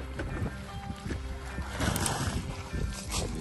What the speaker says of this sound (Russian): Пытаюсь закрыть микрофон, чтобы не мешал ветер.